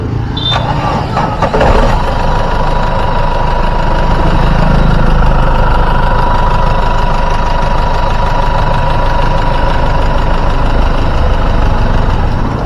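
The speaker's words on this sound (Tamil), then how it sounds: "வாங்க வண்டியோட இன்ஜின் சவுண்ட் எப்படி இருக்கு அப்படின்றத கேட்போம்" A Mahindra Xylo's engine idles at close range, a steady low rumble with an even mechanical hum held throughout, apart from a few brief clicks near the start.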